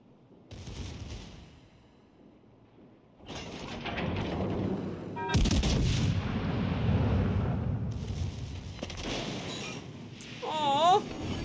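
Warship secondary guns fire in World of Warships Legends, loud booming volleys and blasts over a rumbling battle din, with short bursts and a sustained roar of gunfire and explosions through the middle.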